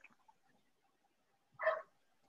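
A dog gives a single short bark in the background of a video call, faint and brief amid near silence.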